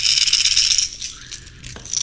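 A 3/4-ounce Lucky Craft fishing lure is shaken, giving a dense metallic rattle that is loud and steady at first, then eases and returns in short bursts, close up with no talking.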